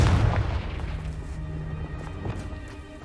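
A fiery Confringo spell blast from the Hogwarts Legacy game, a loud deep boom that opens hard and rolls off into a lingering rumbling tail, with no talking.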